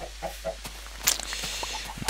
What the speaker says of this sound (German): Hühner, ja, schon 2 haben wir.